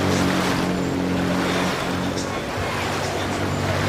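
Rowing eights at the start of a Henley 2017 semi-final between Yale and University of London, a steady, loud roar of churning water and rushing air filling the scene, with a commentator speaking over it.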